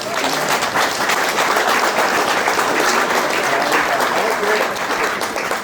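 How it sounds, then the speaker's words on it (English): A banquet audience gives loud, sustained applause with dense clapping that carries on for several seconds and fades slightly at the end. Some voices mix in with the crowd. "Now you can clap."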